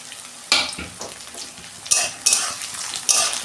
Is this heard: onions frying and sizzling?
yes